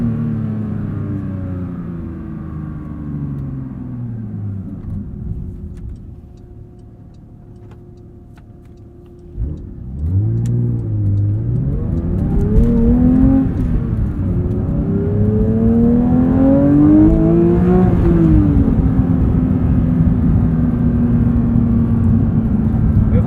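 A 2022 Porsche 911 GT3 manual engine drones steadily, dips briefly, then climbs and revs hard to high rpm with rising harmonic whine, loud and close throughout.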